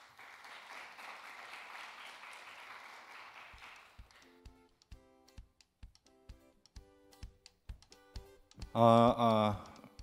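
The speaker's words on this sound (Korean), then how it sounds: "큰 박수와 함께 맞이해 주시면 감사하겠습니다" Applause from a conference audience welcoming a speaker, a broad wash of clapping that fades after about four seconds. Sparse scattered claps and taps follow, then a short loud burst of nearby speech.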